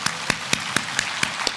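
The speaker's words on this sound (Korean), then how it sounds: "부활의 아침 우리가 함께 모여 주님을 예배하게 하신 하나님께 박수로 경배와 찬양 올려드립니다." A congregation at an Easter church service claps in an even, steady rhythm, about seven sharp claps a bit over a fifth of a second apart, moderately loud against a quiet room.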